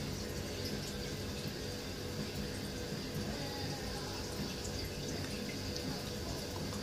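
Home-brewed Coopers Draught beer transferring in a closed system into a keg through its gas port, a steady close hiss of liquid flow with faint drips and gurgles, unbroken and with no one talking.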